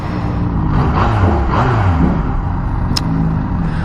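A Yamaha FZ-09 motorcycle engine pulls away on a 2016 first ride, a steady loud close drone with rising and falling revs as the bike gets moving, and no talking.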